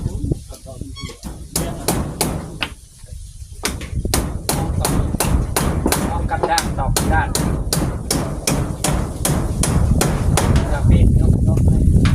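Rapid, regular hammer blows striking nails into wood while building a house, sharp loud knocks in a steady rhythm, with brief talk near the start.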